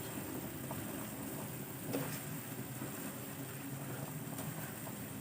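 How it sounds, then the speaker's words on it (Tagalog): A faint, steady bubbling hiss of salted water boiling in a pot for Filipino pork rib nilaga, low and continuous, with a few small knocks. "Kumukulo."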